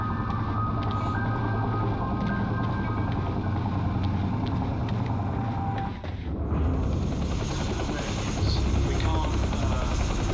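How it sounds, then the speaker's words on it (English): A helicopter in the video game Quantum Break, a continuous rotor drone under a dense game soundscape that briefly dips and swells again partway through. "Better get inside before the chopper spots me."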